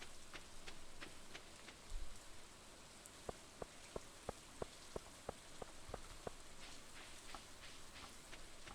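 Rain falls steadily in the video game Stardew Valley, a soft continuous patter with a regular series of faint ticking drops partway through.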